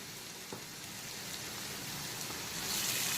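Salt-and-turmeric coated shrimp hitting a hot pan for Bengali loti sundori with coconut, a dense steady sizzle that swells slightly louder toward the end, close and alone.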